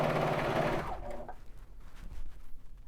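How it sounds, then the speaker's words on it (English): A Baby Lock serger stitches the side seam of a crewneck sweatshirt, a loud, steady, close whirring hum that runs for about a second before slowing and stopping, leaving faint handling noises. "Back over at my serger, here I have my side seam of my shirt and the side seam of my sleeve"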